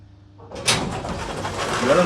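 A 1960s Otis service elevator door rolling open, a rising mechanical slide that swells and then holds as a steady rumbling hiss, close by, with faint voices in the background.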